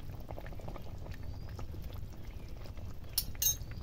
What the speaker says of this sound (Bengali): আর একটুখানি ফুটিয়ে নেব।